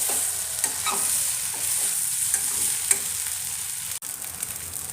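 Pepper idli is stirred and tossed in a hot pan. Soft scraping strokes come in an irregular rhythm over a faint, steady sizzle, with one sharp knock near the end.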